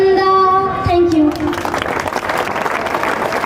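Audience applause at a school inauguration ceremony, starting under a fading sung melody, then swelling into steady, dense clapping from a crowd that fills the rest of the moment.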